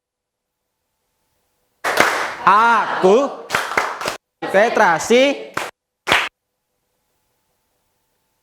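Schoolchildren in an Indonesian classroom perform a rhythmic focus clap, with a few sharp group claps punctuating their loud chanted words.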